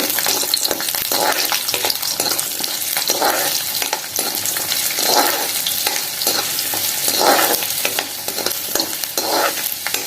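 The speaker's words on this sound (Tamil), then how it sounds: "நல்லெண்ணெய் ஊற்றிட்டு பூண்டை போடுறோம் பூண்டு போட்டு லேசாக வதங்கிட்டோம்" Garlic sautéing in sesame oil while being stirred, a steady bright sizzle with rhythmic scraping strokes of the spoon throughout, close and fairly loud, no voices.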